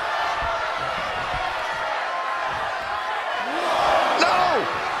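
In WWE 2K24, a steady crowd roar fills an NXT wrestling match and swells louder near the end with a sharp whoop, while a commentator talks over it.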